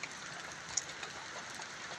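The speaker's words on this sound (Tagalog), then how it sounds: "Inawad pa ako ng ulan" Faint, steady rain patters outside a cottage, an even hiss of drops with a couple of slightly sharper taps, and no one speaking.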